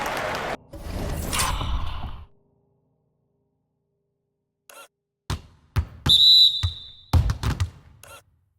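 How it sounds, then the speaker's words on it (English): A referee whistle in the NBA 2K25 basketball game calls a backcourt violation: one short, sharp, shrill blast among scattered court thuds and bumps, after a quiet gap. "And the whistle blows on a backcourt violation."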